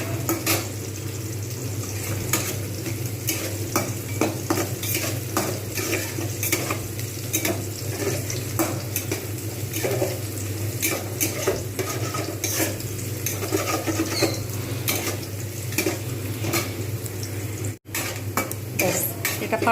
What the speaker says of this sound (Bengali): যতক্ষণ পর্যন্ত একদম পুরো বেরেস্তা না হচ্ছে, ততক্ষণ পর্যন্ত আমি কিন্তু এটা ভালো করে ভেজে নেব।